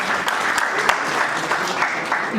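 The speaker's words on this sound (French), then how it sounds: "Alors applaudissez-les encore une fois parce qu'ils sont double gradués." Audience at an international professional graduation ceremony in Togo applauding the graduates, a brisk, sustained burst of clapping heard close and evenly throughout, with faint voices mixed in.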